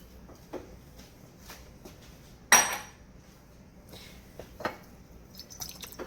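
A handful of chopped onions lands in a cooking pot with a single loud, close clattering thud, surrounded by quiet kitchen shuffling.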